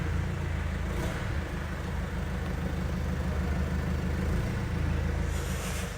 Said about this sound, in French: C'est un bruit de diesel, hein.